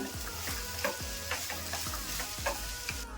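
Grated coconut being stirred in a frying pan while it sizzles, with regular scraping strokes of a spoon roughly twice a second over a steady frying hiss, close and moderately loud.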